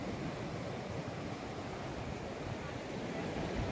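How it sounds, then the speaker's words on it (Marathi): Ocean waves breaking on a shore, a dense continuous roar of surf and wash filling the whole stretch, close and fairly loud with no talking. "लाट आली"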